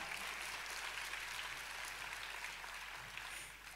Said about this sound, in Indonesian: Tepuk tangannya boleh yang paling meriah.